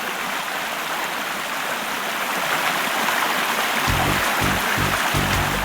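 Waterfall cascades in Mafate, Réunion, a canyoning spot, pour down in a dense, steady rush of water. Low rumbling pulses rise near the end.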